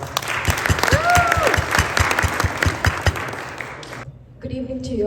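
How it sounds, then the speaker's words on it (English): An audience claps for about four seconds, a dense patter of hands, with a voice briefly audible over it before the clapping stops and a speaker begins. "give her a big round of applause."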